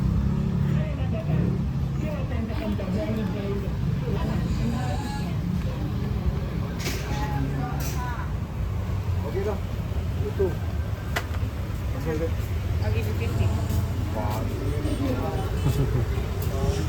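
A car moves slowly through narrow Garlic Lane in Legian, Bali, after sunset, its engine a steady rumble amid street babble and passing voices.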